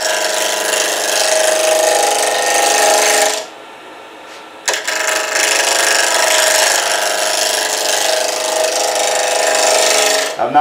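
A roughing gouge cuts a spinning pen blank on a wood lathe, giving a steady, close, hissing scrape that pauses briefly partway through and then resumes as a continuous rasp.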